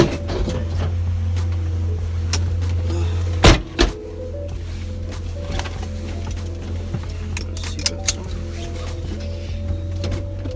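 Cab interior of a 1987 Chevrolet S10 pickup on the move, with a steady loud low drone and rumble from poor weather stripping, broken near the middle by a pair of sharp knocks or thumps and later a few faint clicks.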